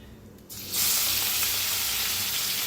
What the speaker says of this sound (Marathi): मोहरी चांगली तडतडा लागल्या